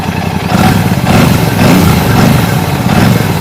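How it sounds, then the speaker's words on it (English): A Royal Enfield Classic 650 twin with a pea-shooter exhaust revving close by, a loud, throaty, bassy exhaust note swelling and easing in rhythmic surges with no talking. "So let me rev it up."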